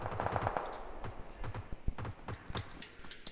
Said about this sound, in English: There was gunshots going off over at these buildings I just marked.